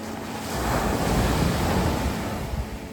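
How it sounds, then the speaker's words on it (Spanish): Caribbean sea waves surging steadily onto a beach at Choroní, a broad continuous roar with some wind buffeting the microphone, swelling slightly midway, no voices. "Nada como el sonido de este mar, nuestro Caribe, que es contundente."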